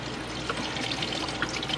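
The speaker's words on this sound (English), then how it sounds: "I bring a big old pitcher of water in here." Water pours from a large pitcher taken out of the fridge, a steady splashing wash running close and fairly loud for under two seconds with no talk.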